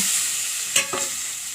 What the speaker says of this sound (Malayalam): മീനിടുന്നു